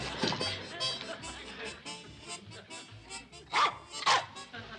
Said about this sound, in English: The stupid dog goes all to pieces in a time of crisis.